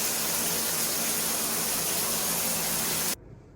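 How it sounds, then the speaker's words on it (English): Shower water runs steadily at close range, a dense, even spray that cuts off abruptly at the end. "So let's go take a shower."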